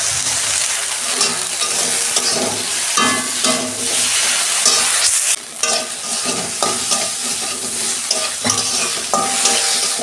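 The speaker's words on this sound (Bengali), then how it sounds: "ঢেঁড়সগুলো আমি একটু ভালো করে ভেজে নেবো 2 মিনিট" Okra pieces seasoned with a little salt and turmeric fry in hot oil in a kadai, a steady loud sizzle broken by repeated scraping and stirring of the spatula, with no talk.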